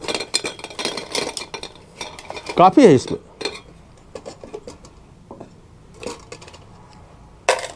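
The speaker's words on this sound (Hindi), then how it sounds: "खाना बनाने के लिए मेरे पास ढेर सारा बर्तन है" Camping cookware pots, bowls and a ladle being handled, with metallic clinks, scrapes and knocks in scattered bursts, close by, and a brief voice speaking.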